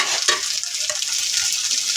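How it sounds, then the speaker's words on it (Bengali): Okra pieces fry in hot oil for a mashed okra bhorta, giving a continuous crackling sizzle with the scrape of a spatula stirring and turning them. "হয়ে গেল আমার ভেন্ডি ভাজা।"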